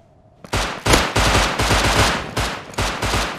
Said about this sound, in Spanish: Nos lo disparan.